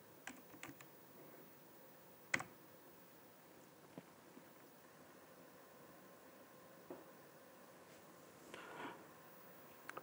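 Typing on a computer keyboard, with sparse, quiet key clicks and a few louder taps spread over a soft background hiss, without any talking.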